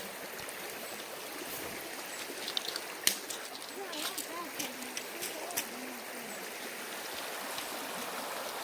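A stream flows beside a forest trail leading up to the waterfalls at Alouette Lake, a steady, faint wash of running water with a few scattered knocks and rustles nearby.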